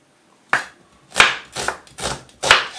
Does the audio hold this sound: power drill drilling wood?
no